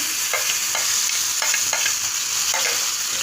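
Onions and tomatoes fry in a pan for beef fry while a spoon stirs them, making a continuous hiss with a regular series of soft scraping strokes, close up and with no talk.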